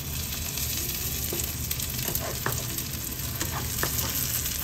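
An egg frying in oil in a pan makes a close, steady sizzle with scattered crackles and pops running throughout, loud and unbroken, with no voices.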